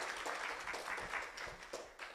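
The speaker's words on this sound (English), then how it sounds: "let's give her a very big clap" Conference audience applause, a modest burst of hand clapping at moderate distance, fairly steady then tapering slightly toward the end.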